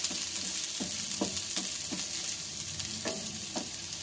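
Onions frying in a pan for a pork chop steak, a steady sizzle with repeated short scraping stirs at an even rhythm, close and fairly loud, with no talking.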